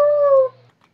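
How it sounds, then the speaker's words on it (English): A dog gives a single loud, close howl, a clear sustained wail that fades out within about half a second, followed by near silence. "All he wants to do is howl."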